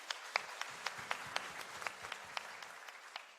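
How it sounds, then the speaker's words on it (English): Audience at a microfinance conference applauding, a faint, sparse round of claps with individual sharp hits spaced about evenly over a few seconds, heard from a distance. "Can we give them a round of applause?"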